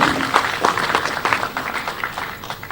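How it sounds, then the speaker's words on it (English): A crowd applauds with dense, fairly steady clapping that slowly fades slightly over a few seconds. "Please may we give her a round of applause."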